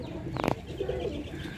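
Zeera Sharmila fancy pigeons give a soft, brief cooing burst near the middle, with a lower murmuring coo following, close by against a quiet background.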